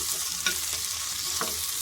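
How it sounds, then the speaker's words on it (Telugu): Green chillies fry in a little oil in a pan, a steady soft sizzle running throughout with a couple of brief stirring scrapes, close and alone without any voices. "పచ్చికాయలు వేగేంత వరకు కొద్దిగా నూనె వేయించుకుంటే చాలు"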